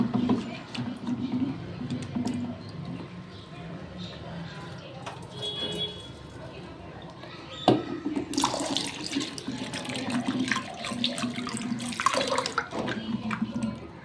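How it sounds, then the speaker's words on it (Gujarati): Urad dal (black gram lentils) washed under running water for idada, a steady tap stream with clinks of the bowl and swishing as the lentils are rinsed, louder and splashier in the later part, with a voice talking over it. "પછી હું આવી રીતે સરસ અડદની દાળ પણ ધોઈ લઈશ"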